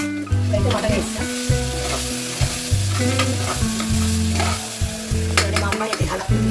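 Mutton fries in a pan with tomato and is stirred, giving a loud continuous sizzle broken by repeated scraping and clattering strokes of the spoon against the pan, with no talk.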